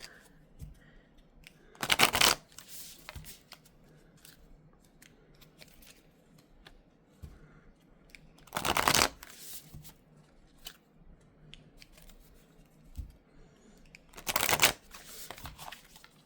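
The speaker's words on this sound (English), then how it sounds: "We'll do our 5-time shuffle in this direction." A tarot card deck is riffle-shuffled three times, each quick burst about six seconds apart, with soft handling noises in between.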